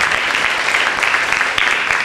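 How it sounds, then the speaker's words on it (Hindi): Brief, steady applause from the audience at a school Mother's Day celebration, cheering for a girl named Mariam; dense clapping fills the short stretch with no break. "मरियम के लिए बहुत जोरदार तालियां हैं।"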